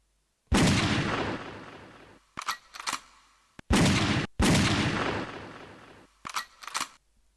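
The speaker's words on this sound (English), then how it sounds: "Paul, you're not going to be happy until there's gunshots in this, so I might as well just put them in now." Gunshot sound effects layered onto a chopped drum break: loud sharp blasts with long decaying tails, each followed by a couple of quick clicking hits, repeating twice in a steady pattern.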